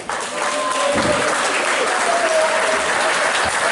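Loud, steady applause from a large crowd, a dense wash of clapping that holds throughout.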